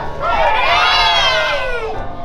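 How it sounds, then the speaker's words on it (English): Young nursery children at a school assembly performance shout a long, high, sustained cheer together, loud and close, with little sign of clapping under the voices. "we'll clap and shout"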